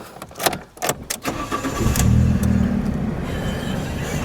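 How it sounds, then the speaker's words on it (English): Engine of a 2012 Fiat 500 Lounge cranking with several clicks and bursts, then catching and settling into a steady idle, heard close up with no talk. "Let me try that with the engine running."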